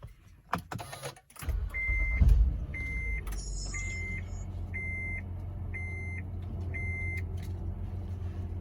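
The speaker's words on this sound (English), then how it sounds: "now if we go ahead and start up the vehicle" A 2011–2014 Honda Odyssey or Pilot engine cranks and catches, then settles into a steady low idle, while a repeating electronic chime beeps about once a second over the running engine.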